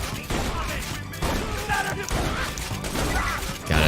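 Shotgun blasts from a first-person video game ring out in a dense, continuous barrage of loud booms and crashes, heavy and chaotic, mixed with game effects and a voice talking over the action.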